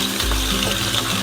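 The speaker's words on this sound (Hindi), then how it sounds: "तो अब हम प्याज लेंगे, प्याज को हम हल्का सा फ्राई करेंगे।" Onions lightly frying in a pan with cumin for a Kashmiri mallow-leaf and tomato dish, giving a steady close hiss across the whole moment with no talk over it.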